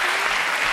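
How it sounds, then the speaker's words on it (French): Studio audience applauding on a French television talk show, a dense, steady wash of clapping heard alone and fairly loud throughout. "Applaudissements."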